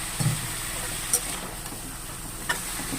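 Chickpeas sizzle faintly in a pan as they are stirred for a traditional vegetarian pumpkin chhokka, giving a soft steady fry with two brief sharp scrapes of the spatula.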